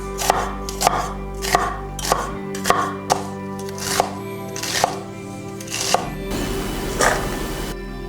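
Ginger chopped for potato cutlets: about a dozen crisp, evenly spaced knife strikes on a cutting board, close and loud, with no one speaking.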